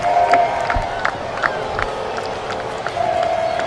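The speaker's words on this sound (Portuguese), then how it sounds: "Levanta a torcida aqui na cidade de Conchal." Crowd noise rising at an under-12 youth football match in Conchal, Brazil: a moderate, distant mass of cheering with scattered shouts and whistles swelling at the start and end, beneath an announcer's running commentary.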